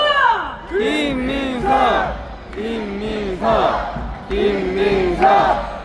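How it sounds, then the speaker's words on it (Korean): At a candlelight citizens' rally, a large crowd chants the name of Democratic Party supreme council member Kim Min-seok five times in loud, rhythmic, drawn-out unison shouts. "자, 다섯 번 연호하겠습니다."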